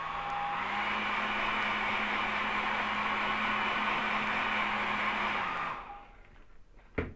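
A hair dryer blowing steadily on a watercolour painting, a loud continuous whooshing roar close by that winds down and switches off near the end, followed by a small click.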